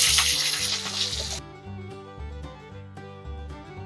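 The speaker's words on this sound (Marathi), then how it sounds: "तेल छान असं गरम झालंय आपण यामध्ये जिरं टाकूयात फ्रेश असा कढीपत्ता आणि आपण जे वाटण घेतलंय वाटून ते यामध्ये टाकायचं" Cumin seeds, fresh curry leaves and a ground masala paste hit hot oil for Maharashtrian kat vada, giving a loud broadband sizzle that drops to a softer steady fry, with quiet clinks of a utensil.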